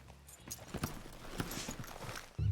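Horse hooves clip-clopping in the Red Dead Redemption 2 video game, a close, uneven run of hoof knocks on hard ground that ends with a louder thump.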